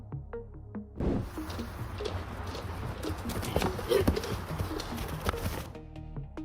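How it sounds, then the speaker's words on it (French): Steady clip-clop of a heavy, one-tonne horse's hooves on hard ground, a close rhythmic patter with birds faintly chirping in the background. "Et ce cheval robuste pèse 1 tonne entière et mesure 2 mètres de long."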